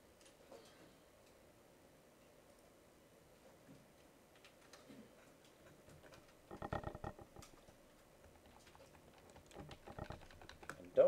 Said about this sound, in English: Don't type what I'm typing.